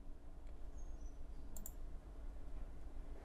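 A computer mouse clicks while underline options are set in a spreadsheet, giving a few sharp, faint, close clicks spaced apart over a quiet room hum.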